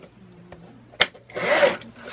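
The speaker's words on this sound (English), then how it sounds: "So I'm going to cut this at 7 1/4 inch." Designer paper being cut for a mini album, a sharp snip then a short rasping slide of the blade through the sheet, close and fairly quiet with no talk.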